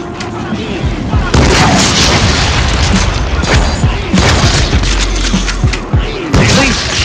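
Shotgun blasts boom repeatedly in the Deadpool video game, a string of loud, heavy reports amid dense chaotic combat noise, with a voice talking over the gunfire.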